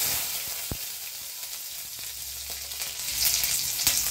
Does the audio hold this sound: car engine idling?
no